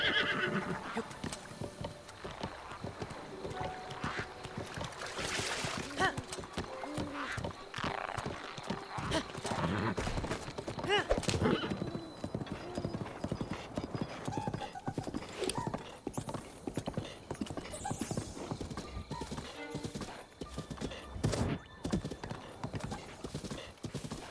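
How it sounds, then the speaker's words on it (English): Horse hooves clip-clopping in a steady gallop rhythm in the video game Zelda Breath of the Wild, with a horse neighing, plus game effects and occasional faint talk underneath. "should probably have my horse to ride through here."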